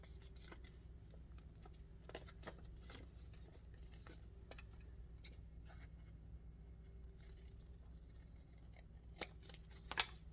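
Scissors cutting through coffee filter paper, a series of quick crisp snips scattered over ten seconds, close and clear over a low steady background hum.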